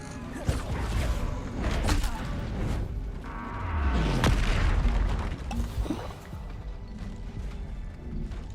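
A Bombarda spell goes off in Hogwarts Legacy during a fight with poachers, a deep boom with a rushing whoosh and crashing debris, followed by quieter combat sounds.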